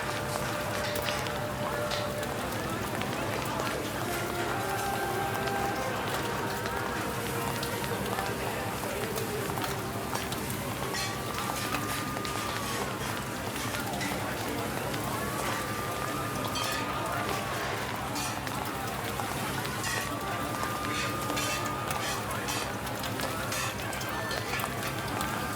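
Layered crowd of footsteps and human murmur for a Blade Runner–style city ambience, a dense continuous patter of many feet under steady background noise with faint rising tones, running evenly throughout.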